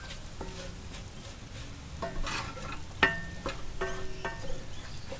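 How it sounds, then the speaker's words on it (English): Rendang spice paste sizzling in a pot over a wood-fired oven, a soft steady crackle with a few sharper pops and faint stirring scrapes, quiet and close, with rain-like hiss in the background. "you can hear that starting to sizzle off"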